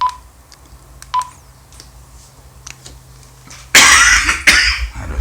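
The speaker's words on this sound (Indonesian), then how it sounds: "batuk teman-teman ya" Two sharp, loud coughs from a person in a quiet room, following a few short electronic beeps from a handheld two-way radio being programmed.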